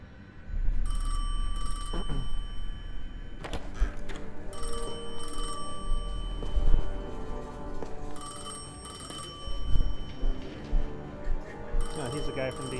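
An old telephone in the video game Destiny 2 rings in repeated bursts throughout a cutscene. Game music and effects run underneath, and people talk over it.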